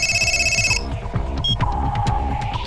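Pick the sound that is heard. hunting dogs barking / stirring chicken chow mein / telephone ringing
telephone ringing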